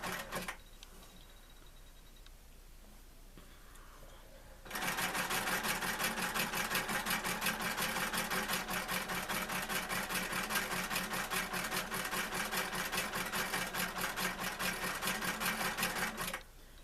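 A sewing machine runs steadily in a zigzag stitch, sewing over cord for a small handmade basket. Its rapid, even mechanical whirr starts after a quieter lead-in and carries on loud and close to the end.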